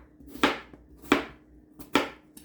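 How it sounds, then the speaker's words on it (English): Knife chopping through onion, apples and celery on a cutting board, four distinct close cuts about every half second to second, each a sharp crisp thunk with a brief rustle, no voices. "dice up that whole onion, and you are going to do 2 apples"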